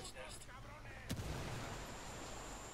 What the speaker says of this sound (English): I'm gonna chuck in the grenade in there